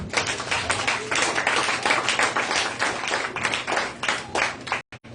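A church congregation at a Sunday praise and worship service claps together in steady, dense applause for several seconds, loud and close, with no voices rising above it, before a brief gap near the end.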